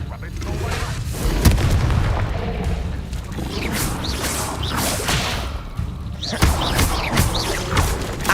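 Spell blasts from Hogwarts Legacy, including the Confringo fire spell, crack and boom repeatedly in dense whooshing bursts over a busy background.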